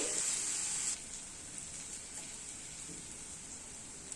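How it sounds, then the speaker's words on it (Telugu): Salted onions frying in a pan make a faint, steady sizzle, a bit louder for the first second, then a soft continuous hiss. "ఉల్లిపాయలు ఫ్రై చేద్దాం"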